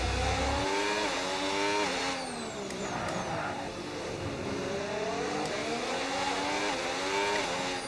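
Synthetic race car engines in a racing video game drone steadily, with pitch rising and falling through gear changes, loud and continuous with no talk.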